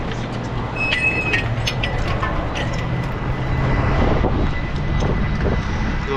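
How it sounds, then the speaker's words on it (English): Strong wind gusting outdoors in Maine's northern woods, a steady broadband roar that swells louder in the second half, with faint rumbling underneath. "The wind's stronger."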